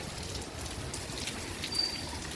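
Steady rain falls outdoors as a soft, even patter and trickle with no break, faint and continuous.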